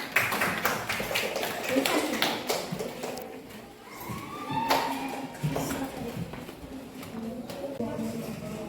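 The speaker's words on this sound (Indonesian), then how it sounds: "Terima kasih, tepuk tangan." Short bursts of clapping from a classroom of students, scattered and uneven hand claps mixed with chatter and voices talking over them.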